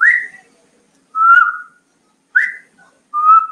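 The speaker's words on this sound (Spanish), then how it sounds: "Este es el canto de Sinalaxis guhanensis" Guianan spinetail (Synallaxis guianensis) singing from scrubby vegetation in the Ariari region, giving four clear, close whistled notes spaced about a second apart, alternating rising and level phrases with silence between.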